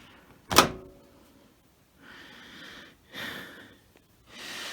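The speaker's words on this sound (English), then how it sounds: "here's the look inside the washer, which is you pull the door open" A Maytag MHW5630HW front-load washer door is pulled open with one sharp, close clunk, followed by a soft fading rustle and quieter shuffling sounds.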